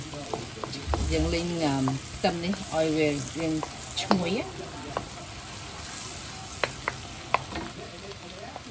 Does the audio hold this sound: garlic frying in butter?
yes